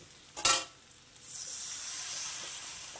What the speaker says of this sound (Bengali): দিয়ে আঁচ কমিয়ে একটু ভেজে নেব।